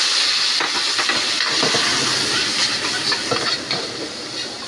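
Garlic sizzling loudly in a hot pan as it goes in for a chicken and squash (kalabasa) dish, a dense steady hiss with crackling pops throughout, close and continuous with no talk.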